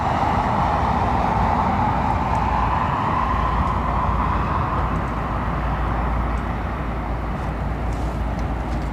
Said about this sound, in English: you can hear the hum of those Trents